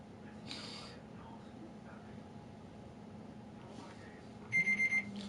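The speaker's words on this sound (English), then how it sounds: "Oh, and there goes the timer, ladies and gentlemen." A game show timer alarm going off at the end of a round, a short loud burst of about four rapid beeping pulses over a faint background hum, with no talk during it.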